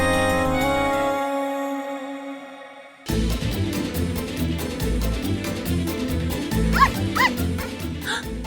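A puppy yips and barks repeatedly in short, high bursts, with a few whimpers, after a stretch of background music fades out.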